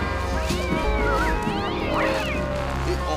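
Several cats found in an apartment meowing and caterwauling, with overlapping rising and falling wails, close and loud over a low background hum.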